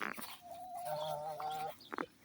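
A blue hen gives a drawn-out, wavering vocal call lasting over a second, close and fairly clear, framed by a few short clucks and scratchy noises before and after.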